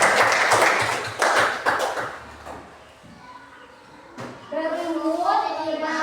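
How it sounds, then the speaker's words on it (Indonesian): Classroom applause for a student, a brief burst of clapping from a small group of children, fairly close, fading out before a voice begins talking. "Tepuk tangan untuk Askia"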